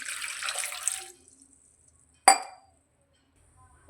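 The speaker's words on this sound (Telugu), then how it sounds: "తర్వాత ఒక గ్లాస్ వాటర్ వేసేయాలి" About a second of a glass of water splashing and pouring onto cut tomatoes for rasam, then quiet, followed by a single sharp clink of a vessel.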